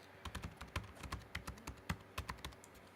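Fingers tap out a login on a computer keyboard in a steady run of about a dozen crisp, close keystrokes with brief pauses, no voices present.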